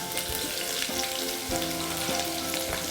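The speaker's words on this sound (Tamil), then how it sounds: "எண்ணெய் காஞ்சதுக்கப்புறம் பூண்டு, ஜிஞ்சர், க்ரீன் சில்லி" Garlic, ginger and green chili sizzle in hot oil in a pan while cooking chole, a steady, close crackling hiss with occasional stirring knocks and no voices.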